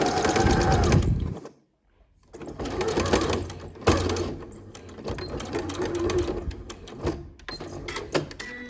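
A sewing machine topstitches around a T-shirt neckline with a fast, steady mechanical whirring and needle clatter, up close, pausing briefly before starting again and running in bursts.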